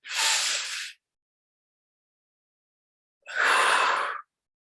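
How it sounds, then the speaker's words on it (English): Two deep breaths during a shamanic breathwork session, each a close, airy rush lasting about a second, separated by a few seconds of silence. "Deep cleansing breath"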